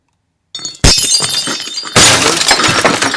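Something is smashed hard and broken, with two loud crashes of shattering, breaking material and a spray of debris and crackle after each, close and without talk.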